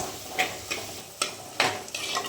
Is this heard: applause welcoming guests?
no